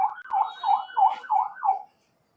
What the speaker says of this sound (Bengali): এটা তো জরুরি সেবার হর্ন।